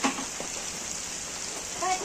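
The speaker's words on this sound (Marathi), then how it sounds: "पाऊस यायला लागलाय जोरात आलाय पाऊस." Heavy rain falling in Pune, a steady soft hiss of drops on surfaces, moderately quiet and continuous, with a slight swell near the end.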